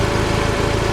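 A Toyota MR2 with a modified engine bay idles up close, its exhaust giving a steady, loud, even hum with a fine regular pulse and no speech.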